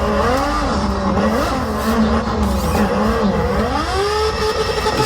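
A racing car engine in a drift driving simulator game roars loudly and continuously, its pitch rising and falling with throttle and gear changes and mixed with tire squeal, close and dominant with no speech.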